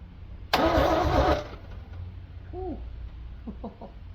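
An old car engine, left unstarted for 30 years and fed by a temporary fuel pump, cranks loudly for about a second then falls away, with a rooster or bird calling faintly afterward.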